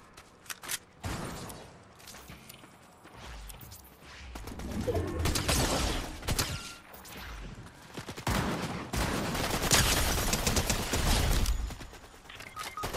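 SMG gunfire in a Fortnite duo final-circle match, loud rapid bursts of automatic shots in uneven volleys with short gaps, close and dense, some impacts and crashes mixed in, no talking.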